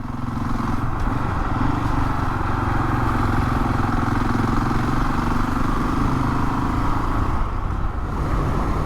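Husqvarna 701 motorcycle ridden on a rural road in winter, a steady loud engine drone with wind and road noise that stays constant and close throughout, with no talking.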